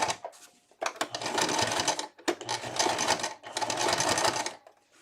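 A sewing machine stitches a cloth diaper cover slowly around a curve, running in three separate bursts of rapid, steady needle clatter with short quiet pauses between them, heard close up.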